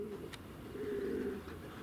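Pigeons coo softly at a low, steady level for a moment, faint and a little distant, with no voices.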